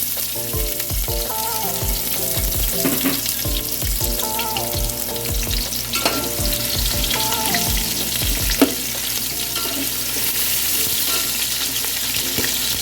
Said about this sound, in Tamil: இப்போ நம்ம வெங்காயம் ஆட் பண்ணிக்கலாம்.